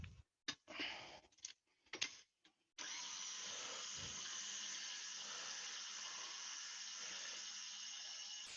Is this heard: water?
yes